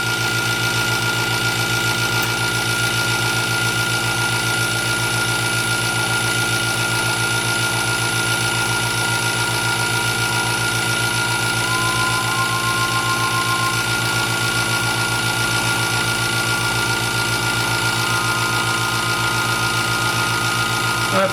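A wood lathe spins an oak bowl blank at about 500 RPM with a round carbide cutter, producing a steady, unbroken mechanical hum at moderate volume.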